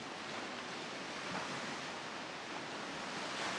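Ocean waves wash along the seaside in a soft, continuous rushing surf, steady and moderately distant with no voices.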